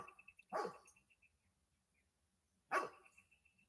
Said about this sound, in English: that's my baby barking